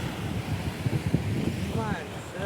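Wind and surf at a seashore where people are sightseeing near hills, a steady broadband wash of waves and wind noise with a voice talking over it and a faint whistling tone near the end.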